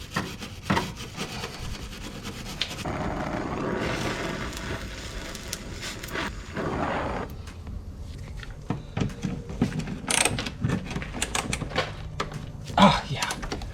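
Scraping, rubbing and clicking of tools as the last nut is worked off a Subaru Impreza 2.5RS fuel tank, close and irregular, with a few sharper knocks.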